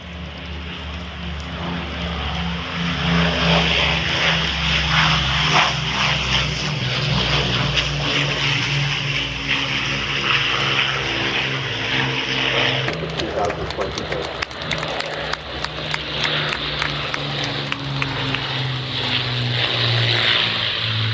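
An RAF Bomber Command memorial flight propeller aircraft passes at an air show, its loud, steady multi-engine drone filling the whole stretch, with faint crowd noise underneath.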